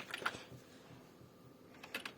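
Computer keyboard keys pressed in a home room setup for playing Fortnite, a few quick clicks at the start and again near the end, faint and close with a quiet gap between.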